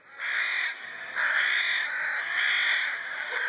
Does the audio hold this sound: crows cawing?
yes